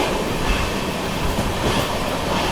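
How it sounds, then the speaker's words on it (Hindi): Loud, continuous roar of the Deccan Queen Express passenger train running parallel to Mumbai local trains, rattling wheels on the track, dense and close, as if heard from inside or right beside the carriages. "यहाँ पर देखो बढ़िया पैरेलल चल रहा है मुंबई लोकल ट्रेन्स के साथ।"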